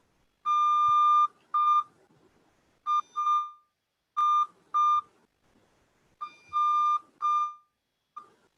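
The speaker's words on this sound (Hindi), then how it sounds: "one dash and one dot, एक लंबा बीप और एक short beep, one long beep and one short beep" Pure electronic beeps sound Morse code letter N, a long tone and then a short one, repeated several times with clear silent gaps between each pair.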